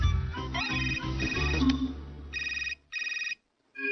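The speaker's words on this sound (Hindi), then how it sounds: "आलिया, जब भी तुम्हारी सलाह चाहिए तुम कभी फोन नहीं उठाती।" A phone rings in an animated cartoon scene, an electronic ringtone trilling in repeated bursts over low background sounds. It cuts off briefly, rings twice more clearly, then a short final chirp sounds.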